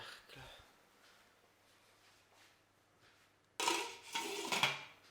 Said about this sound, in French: On va prendre hop, un petit couvercle.